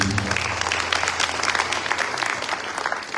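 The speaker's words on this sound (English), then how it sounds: "Round of applause for Anisha." Audience at an evening Hindu cultural tour event in South Africa breaks into a steady round of applause, dense mid-loud clapping from a crowd with a faint low hum beneath, no talking.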